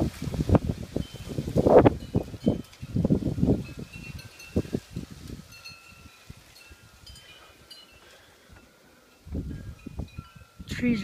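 Santa Ana wind gusts thrash nearby trees in rushing, rustling surges, loud at first, then dropping to a quieter lull before another gust rises near the end.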